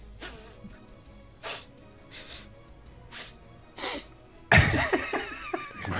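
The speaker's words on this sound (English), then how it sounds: "Why are we sniffing?" Several people sniff during a Shellshock Live gaming session: short, sharp, breathy bursts spaced a second or so apart, then a louder, noisier flurry near the end.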